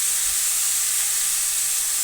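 Peas and cabbage sizzle steadily in a hot pan while being stirred, a bright, continuous hiss close up with no talking.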